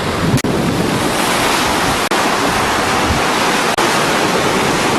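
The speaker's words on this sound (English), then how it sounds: "And pretty decent wind, not very strong." Aboard a Gemini catamaran under sail, strong wind buffets the microphone in a dense, roaring rush mixed with waves, loud and constant, with a few brief dropouts.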